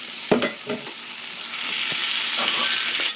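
Fresh tomatoes drop into a hot pan, and after a few scraping, stirring knocks the sizzle swells into a dense, continuous hiss close up.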